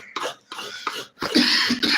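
Coughing from a person preparing coconut for a Kerala-style roasted coconut curry, several harsh bursts spread across the moment, fairly close and moderately loud, with brief throat-clearing and no other talk.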